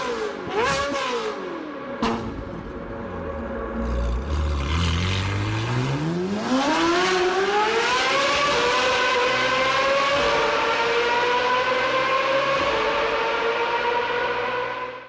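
Ferrari 458 engine roars as it climbs through the revs, dipping low and then sweeping up into a loud, sustained high-pitched wail that holds for several seconds.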